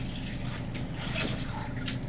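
Brisket wrap liquid poured from a bottle into a container, a steady close gurgling splash with a few brighter spatters, no talk.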